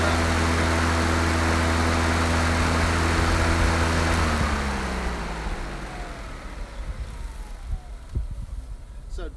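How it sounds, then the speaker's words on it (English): A John Deere electric lawnmower's blade spins with a loud steady motor whine and low harmonic hum, then winds down and fades after a few seconds, leaving quieter rumble and faint ticks. "the noise you hear is the blade spinning, not the engine running"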